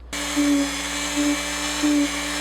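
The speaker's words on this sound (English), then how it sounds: "we're going to go ahead and take the stone and soften all these edges" A rotary tool with a grinding stone softens the edges of a handmade Paladin helmet, giving a steady, close, high electric whine that swells briefly three times as the stone bears down.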